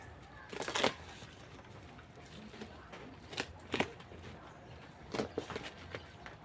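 A TikTok-ordered tripod package, damp from rain on delivery, being opened: crinkly plastic and cardboard rustles in a few bursts at moderate, close range, with quiet pauses between them.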